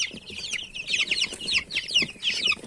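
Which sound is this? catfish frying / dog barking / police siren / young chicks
young chicks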